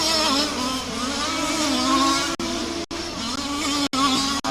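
STC race cars racing on a track at Warm Springs Raceway, with a continuous loud whining engine drone that wavers in pitch as the cars pass, cut by a few brief dropouts.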